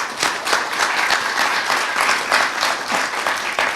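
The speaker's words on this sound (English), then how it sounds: "And a round of applause for them, please." Crowd at a housing anniversary celebration claps in a sustained, even round of applause, fairly close and loud without talk.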